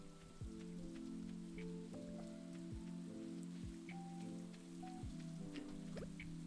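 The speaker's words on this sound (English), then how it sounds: "I really like the rain sounds in Stardew." Steady rain patters in the Stardew Valley video game, a soft continuous hiss with occasional droplet ticks, playing alongside a calm looping background melody with no talking.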